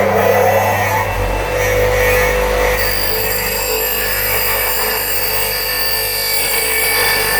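A bench grinder runs steadily in a workshop, giving a continuous loud motor hum and whine with a high, faintly ringing tone that holds level throughout, with no voices.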